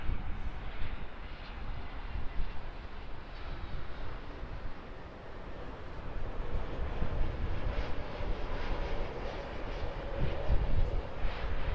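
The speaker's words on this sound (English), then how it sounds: "Airbus A321neo from Sydney." An Airbus A321neo jet arriving from Sydney at Auckland produces a steady, loud broadband engine roar that swells slightly toward the end, continuous throughout with no voices.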